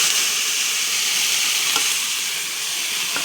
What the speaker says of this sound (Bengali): এখন ঢেঁকি শাকটা দিয়ে দেবো।